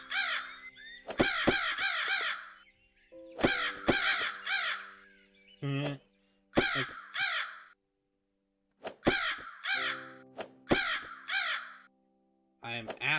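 Crows caw repeatedly in a golf video game, loud close bursts of harsh calls coming in clusters with short silent gaps, accompanied by a steady electronic tone.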